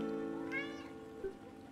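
Cat meowing in Long Gone Days, a single clear drawn-out meow heard alone over a soft steady background tone.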